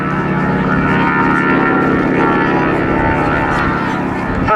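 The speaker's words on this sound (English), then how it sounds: "First thing to mention is that very distinctive engine sound. This is a radial engine." A North American T-6 Harvard with its radial engine takes off at an air show, a loud, continuous propeller roar with a gritty, throbbing drone that stays strong and steady throughout.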